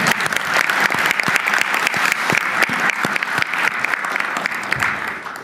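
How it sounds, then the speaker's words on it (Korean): Loud, close applause from a crowd at a national tourism conference attended by the president, with dense, crisp handclaps rippling unevenly for several seconds and no voices over it. "박수라도 한번 치워야죠"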